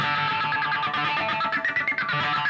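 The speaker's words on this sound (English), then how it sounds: "with the side of the pick, you just hammer the strings" Electric guitar strings hammered with the side of the pick while playing a song, giving a dense, buzzing, lightly distorted run of rapid notes with choppy dips toward the end.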